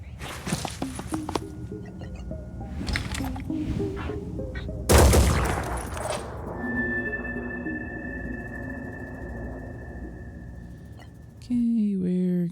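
Shotgun blasts in the video game Phoenix Point fired from a fair distance: a few sharp booming bursts, with one loud, heavy shot midway, amid game effects, clanks and tones.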